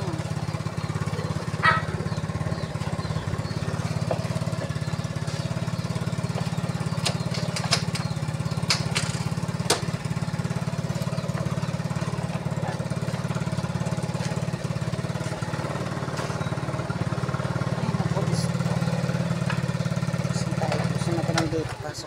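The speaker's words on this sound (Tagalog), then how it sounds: "Pasok ko na yung motor." A motorcycle engine runs steadily nearby on a rainy day, a continuous low drone with scattered clicks and bumps, people speaking faintly at times.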